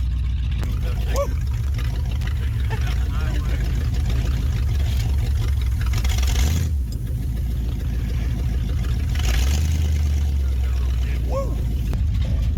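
Engine of a 70-year-old 1955 Hemi Dodge car driving along, a steady low rumble that stays loud throughout, with people talking over it and brief surges in the middle and near the end.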